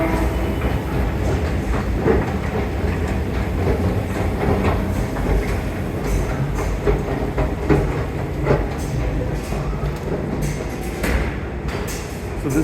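A New York subway train rumbles loudly and steadily through Chambers Street station, with a deep continuous roar, rhythmic clacking of wheels on the rails and occasional metallic squeals.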